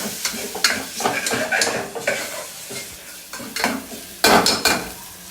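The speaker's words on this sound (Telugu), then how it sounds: "అల్లం పేస్ట్ వేసాను అది కొంచెం పచ్చివాసన పోయే వరకు వేపుతున్నాను" Ginger paste frying in a pan for mutton keema, with a steady close sizzle broken by repeated scraping stir strokes and a few louder clanks of the utensil against the pan.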